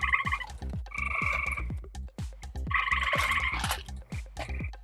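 A chorus of frogs croaks at night in repeated pulsing trills, several callers overlapping in rhythmic bursts with short gaps, fairly close and clear with no talking.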